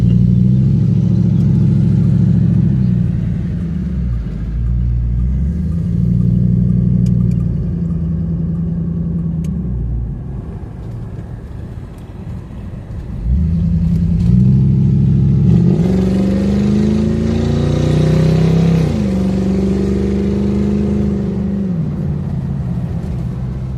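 Engine and road noise from a classic Lincoln Continental Mark III cruising at around 70 mph: a loud, steady low rumble inside the car that rises and falls as the engine note shifts, with no talking.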